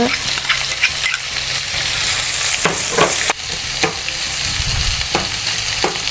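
Green chilli and garlic fry loudly in a hot pan for a Jaffna dried-fish curry, a dense continuous sizzle broken by scraping stirs and occasional knocks of the spoon against the pan.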